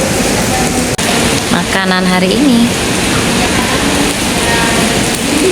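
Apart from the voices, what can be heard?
heavy rain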